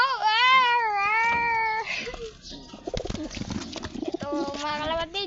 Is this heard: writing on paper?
no